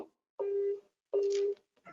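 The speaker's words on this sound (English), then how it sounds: "we press here, and the guard is ringing" An apartment video-intercom calling the guard station gives two steady ringing tones, each lasting about half a second with a short gap between them. The tones are clear and close, and there is no talking.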